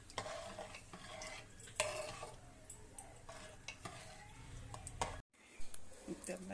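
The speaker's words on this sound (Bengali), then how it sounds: "এবার খুব ভালোভাবে মিশিয়ে নিচ্ছি আমি।" A spoon scrapes and clinks steadily in a pot of lentil dal as cumin powder is mixed in, close and fairly quiet, with a short pause near the end.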